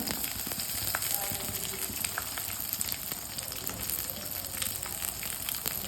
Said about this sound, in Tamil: சின்ன வெங்காயத்துக்குள்ளே 2 துண்டு இஞ்சியும் போட்டு வதக்கணும்.